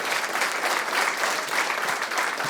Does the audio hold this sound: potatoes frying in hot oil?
no